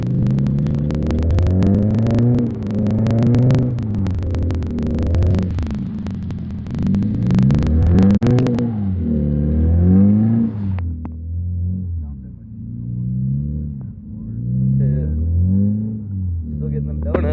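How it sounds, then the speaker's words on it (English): Car doing donuts on a football field, its engine revving and droning in repeated rising and falling surges, close and steady, with speech over it throughout. "let's go drive on the actual football field, and let's just do donuts in the middle of it"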